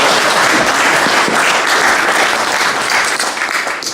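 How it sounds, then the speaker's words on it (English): Sustained applause from an audience at a Tea Party versus Occupy political debate in Duluth, Minnesota, dense and loud throughout, with a few voices mixed in. "thank you for applauding also"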